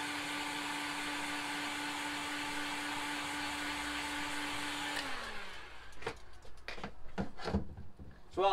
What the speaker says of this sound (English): I'll let these cool down a bit from the heat gun